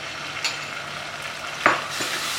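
Ginger garlic paste sizzles and fries with onions in a pan for coriander rice, a steady close hiss with a couple of sharp stirring clinks partway through.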